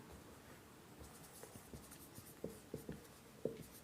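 Marker or chalk writing on a classroom board during a Class 10 physics lesson on electricity, a soft, scratchy run of strokes with several sharper taps and clicks near the end, faint and close with no talk over it.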